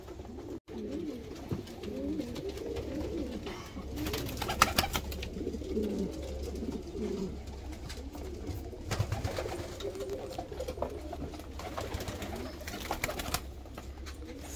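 Pigeons coo repeatedly in a loft of fancy breeds, a steady layered murmur of calls with occasional wing flutters and rustles, moderately close and continuous.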